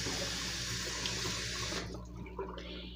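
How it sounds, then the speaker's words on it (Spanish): A nail brush soaks under a running tap, giving a steady close rush of water into a sink that shifts and thins toward the end, with no voices. "Vamos a remojar el cepillo."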